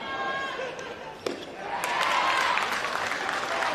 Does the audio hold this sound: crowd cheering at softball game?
yes